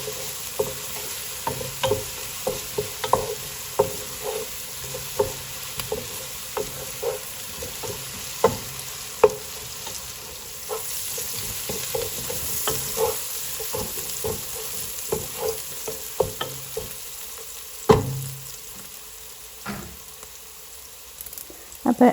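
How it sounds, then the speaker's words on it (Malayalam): Ingredients for mutton curry sautéed in a pan until light golden: a steady sizzle with frequent close clicks and scrapes of a spoon stirring against the pan, continuing throughout without talk. "ഇത് വഴറ്റിയെടുക്കുക. ലൈറ്റ് ഗോൾഡൻ കളറാകുമ്പോൾ നമുക്ക് ഓരോ പൊടികൾ വീതം ചേർത്ത് കൊടുക്കണം."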